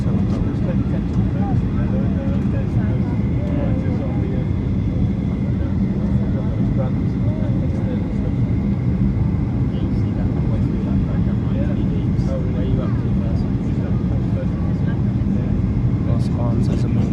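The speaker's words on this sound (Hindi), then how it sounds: "जहाज़ जो है वो बार्सिलोना एयरपोर्ट पर लैंडिंग कर रहे हैं, समुंदर के ऊपर से होता हुआ" An airliner comes in to land at Barcelona airport over the sea, a steady roaring engine rumble that stays constant throughout, with faint voices beneath.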